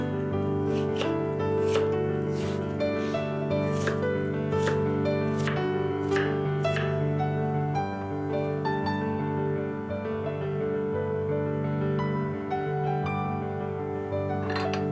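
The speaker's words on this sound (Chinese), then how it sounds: "苹果先去皮， 然后像这样切成小块。" A knife chops a peeled apple into small pieces for an apple filling, a run of quick, light taps mostly in the first half, sitting under steady background music.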